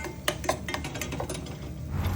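A spoon clinks and scrapes against a pan while cornflour is stirred into nacho sauce ingredients, making a quick run of light, close metallic taps with no talk.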